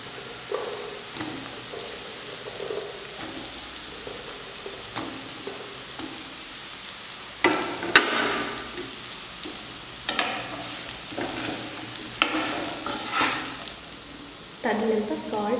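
Cut drumstick pieces fry in a pan with turmeric for a curry, giving a steady close sizzle broken by repeated scraping stir strokes, and a faint voice is heard in places.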